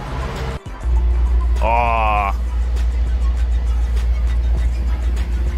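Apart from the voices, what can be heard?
Mercedes-Benz car driving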